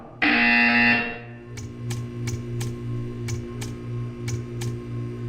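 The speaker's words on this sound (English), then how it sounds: "You will hear a buzzer." A loud electronic buzzer in the Portal 2 video game blares steadily for about a second. Then a row of short, evenly spaced clicks ticks over a low hum.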